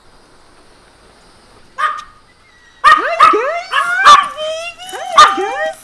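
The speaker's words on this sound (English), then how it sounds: "We're gonna go see the puppies, see how they were." Puppies at home bark, yip and whimper in a burst of overlapping high calls, close and loud, after a brief greeting from a person.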